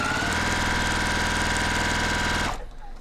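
A domestic sewing machine stitches quilt fabric along a marked line, giving a steady, rapid whirring drone with a fast mechanical pulse that runs evenly and then cuts off near the end.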